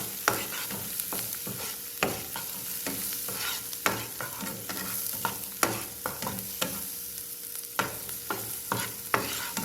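Garlic frying in butter for garlic shrimp, a steady sizzle with repeated scraping stirs of a spoon in the pan, close and fairly loud throughout with no talking.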